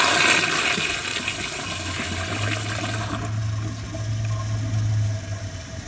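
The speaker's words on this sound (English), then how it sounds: "It has a pretty basic pressure assist flush" A 2016 ProFlo Gilpin round-bowl toilet with a 1-gallon Flushmate pressure-assist system flushes with a loud, sharp rush of water, then a steady low refill hum under the draining swirl.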